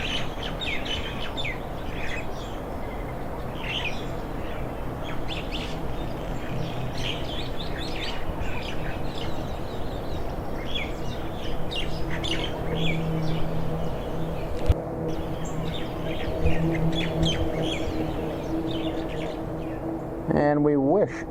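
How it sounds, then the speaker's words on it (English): Birds in Hawaii squawking and chirping as they head to roost at dusk, a busy chorus of overlapping calls at moderate distance that continues steadily over a low background rumble. "you can hear all the birds heading to the roost for the night and having their squawks"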